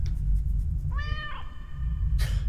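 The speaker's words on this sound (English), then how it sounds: "Pet the kitty." A cat meows once when petted in a video game, a clear, close, drawn-out mew with a rising then falling tone over steady low background hum, and no one talks.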